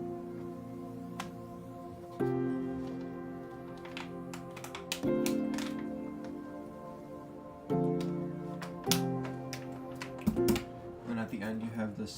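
Intro of an electronic remix built from synth piano chords and an atmospheric pad, with a few spaced chord hits that ring out and decay over a soft sustained backdrop before a quicker flurry of notes.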